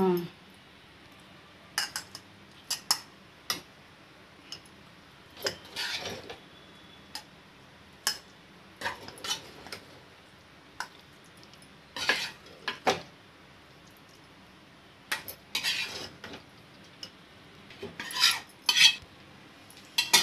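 Spoonfuls of gongura egg pachadi, a sorrel-leaf and egg pickle, are scooped into a glass bowl, giving a series of sharp metal-on-glass clinks and scrapes scattered irregularly across the stretch, with quiet gaps between.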